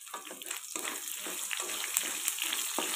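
Medium-size onion frying in hot oil after curry leaves, a steady close hiss and crackle running alone and without break throughout, with no one talking.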